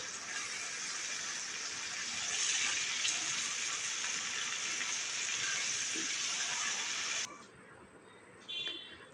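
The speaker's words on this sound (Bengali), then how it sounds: "আদা রসুনটাকে এবার তেলের সাথে ভেজে নেব যেন কোনো রকম কাঁচা গন্ধ না থাকে" Ginger and garlic paste fries in hot oil with a loud, steady sizzle that holds for about seven seconds, then cuts off abruptly to near quiet before a brief burst of sizzling returns.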